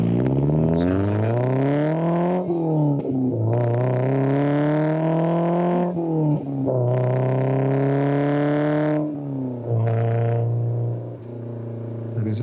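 Maserati Bora 4.9 engine revving slowly in long rising and falling sweeps, loud and steady throughout, with a few brief voices over it.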